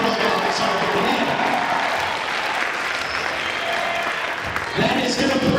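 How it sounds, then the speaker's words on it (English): A round of applause for the stunt riders at a 2016 graduation assembly: a loud, dense crowd clapping steadily throughout, with scattered cheering and voices mixed in and a brief swell near the end. "let's give them one more round of applause for being good college riders on the net"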